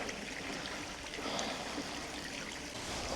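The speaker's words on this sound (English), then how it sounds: "that's the waterfall I'm aiming for" Steady, continuous rush of a waterfall and stream heard from nearby, a broad even hiss of falling water with no pauses.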